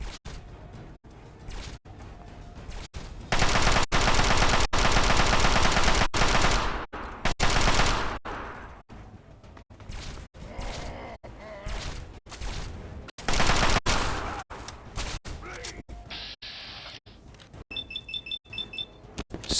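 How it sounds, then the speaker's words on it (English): Gunfire in Fallout 3: loud, sustained bursts of rapid shots broken by short pauses and single cracks, with beeping alert tones in between and no talking. "Sick amount of damage with that gun he's using."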